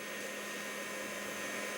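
A heat gun blows hot air onto fabric paint on a T-shirt, making a steady, loud, close rushing roar of airflow that holds unchanged with no other sounds.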